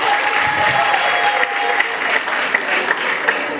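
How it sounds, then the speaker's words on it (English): Applause from the audience at a book premiere, with dense clapping throughout and a few sharper claps standing out. A faint steady tone sounds briefly beneath it. "Please give me a round of applause."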